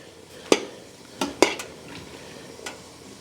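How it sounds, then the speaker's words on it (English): Tomato paste stirred into beef stew in a pot: a few sharp metallic knocks and scrapes of a spoon against the pot, spaced irregularly over a quiet background. "I'm now going to put in a couple of tablespoons of tomato paste, just to up the flavor a bit, and stir that around."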